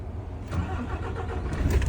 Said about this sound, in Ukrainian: Дивіться, зараз запускаємо двигун.